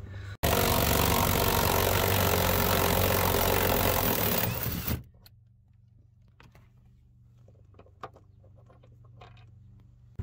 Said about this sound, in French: Donc on va venir les dévisser à la clé à choc.